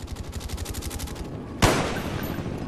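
Call of Duty Black Ops hardcore team deathmatch on the Havana map: a rapid, steady burst of automatic gunfire rattles for about a second and a half, then a single loud, close blast cuts in and leaves a noisy rumbling tail.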